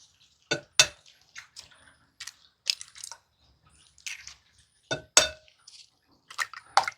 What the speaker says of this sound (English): What I have here is 8 eggs. I'm going to get those all cracked up and put in here.